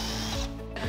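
A power drill drives screws into a wooden bar cabinet, a brief whirring burst with a pitch that drops as each screw seats, two short drives back to back.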